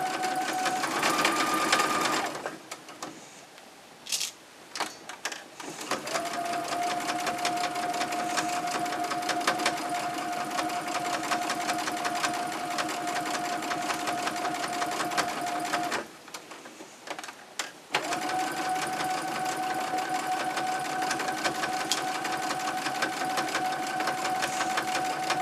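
A sewing machine stitches an exposed-core cloth pad in long steady runs, broken by two short pauses where the presser foot lifts to turn sharp corners; loud and close, with no talk.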